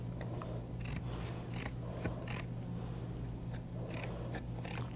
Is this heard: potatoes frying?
no